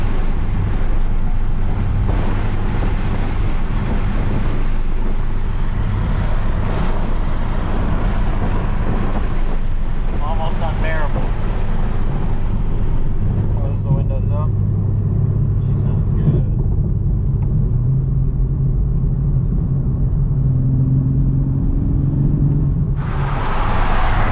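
A 2021 Toyota Supra cruising at 70 mph fills the cabin with steady low rumble and buffeting wind roar, constant throughout, while someone talks over it.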